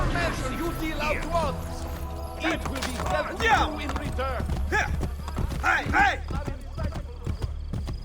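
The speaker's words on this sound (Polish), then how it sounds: "O, dawaj, konia." A horse gallops in the video game Assassin's Creed: Brotherhood, its steady clip-clop hoofbeats running the whole way under a voice and game sound.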